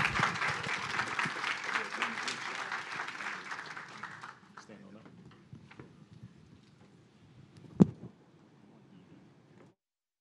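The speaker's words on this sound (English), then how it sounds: "Let's give a round of applause for this incredible panel," Audience applause following a clean energy infrastructure conference panel, a dense crowd clapping steadily for about four seconds before thinning to scattered claps and fading, with one sharp louder clap near the end.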